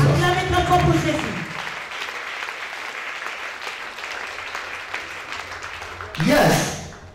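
A church congregation claps for Jesus in a sustained wave of applause, preceded by a speaker's voice, then a brief loud rise near the end.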